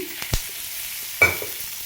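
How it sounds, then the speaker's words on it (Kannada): Oil crackles and sizzles in a pan as ingredients are stir-fried for a Malnad-style chickpea palya, a steady hiss broken by two sharp stirring scrapes, close and moderately loud, with no one talking. "ಹುರ್ಕೊಳ್ಳೋಣ"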